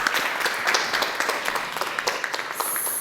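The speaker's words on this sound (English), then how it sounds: "Big applause again." Audience applause at the Creativity World Forum 2022 plenary session: dense, moderately loud clapping from a seated crowd sustained for about three seconds, tapering slightly toward the end.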